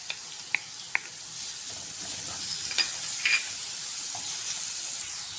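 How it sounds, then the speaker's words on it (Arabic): Garlic cloves drop into liver frying in a pan, a steady bright sizzle and hiss rising after a couple of sharp clicks at the start, close and fairly loud, with no one speaking. "هنا نضيف 2 سنينات تاع الثوم"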